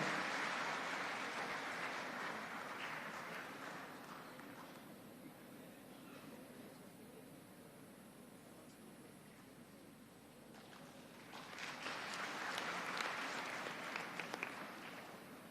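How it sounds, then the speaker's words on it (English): A convocation audience at a university ceremony breaks into dense applause that swells at the start, thins to a lower steady patter through the middle, then rises again strongly near the end. "Please give a big round of applause"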